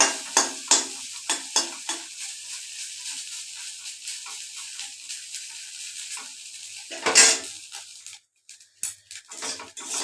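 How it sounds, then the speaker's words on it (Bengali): Dried shutki fish frying in a little oil, stirred in the pan: a string of sharp scraping strokes and clatter over a soft sizzle at first, a quieter crackle after that, then more stirring and bumps near the end. "সুটকি আমার প্রায় ভাজা হয়ে গেছে"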